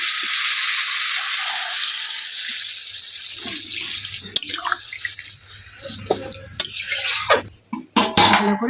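Water poured into a pan of tomato fried in mustard oil for a Bengali fish curry, a steady rushing splash that gives way to sizzling, stirring and clinks of the pan near the end.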